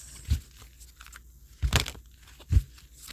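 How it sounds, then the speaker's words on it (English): Tarot cards being shuffled by hand in three short papery bursts of crinkling and riffling, close and fairly quiet with gaps between them. "as I'm shuffling, the way the cards feel to me"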